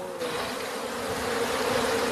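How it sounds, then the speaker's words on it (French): Bees hum steadily in the mangrove at Joal, a dense, continuous buzzing that stays close and fairly loud throughout, with no voices. "beaucoup de gens savent maintenant qu'il y a beaucoup d'abeilles dans la mangrove"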